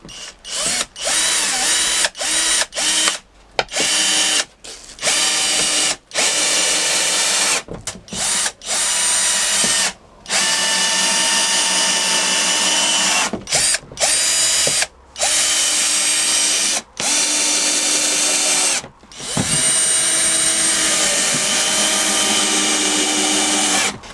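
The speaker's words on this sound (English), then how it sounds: "I'm going to sand everything down and it'll be ready to fit" A power sander works over plywood lining in a campervan conversion, a loud, steady high whirring drone that starts and stops in repeated bursts with short silent gaps between passes.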